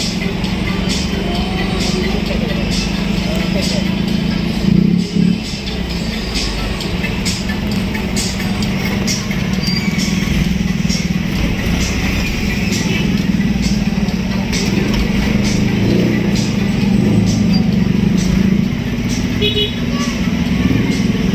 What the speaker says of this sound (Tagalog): Parang motor din yung tunog eh.